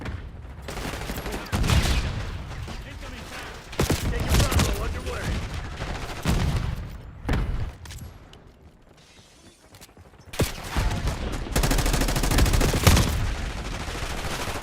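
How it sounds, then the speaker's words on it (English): Bursts of gunfire in a video game shooter, repeated rapid volleys with brief pauses and mechanical clatter, loud and close, with game voice announcements mixed in. "I shoot him in the damn head like several times"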